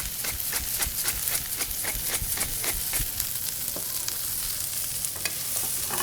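Brussels sprouts fry in rendered bacon fat with salt and cracked black pepper, giving a steady loud sizzle. Frequent sharp pops and stirring clicks recur every fraction of a second throughout.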